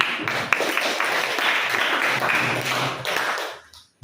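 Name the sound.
applause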